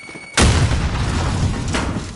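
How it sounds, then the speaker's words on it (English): A frag grenade detonates in a video game firefight, a single loud, close boom with a sharp onset followed by a long rumbling tail that stays heavy throughout. "Frag at them!"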